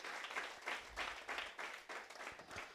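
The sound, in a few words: congregation applause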